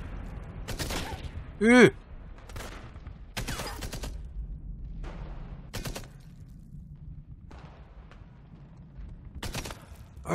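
Sharp, separate gunshots ring out in the World War II shooter Enemy Front, a handful of loud close bangs spaced irregularly across the stretch, with a person briefly speaking between them.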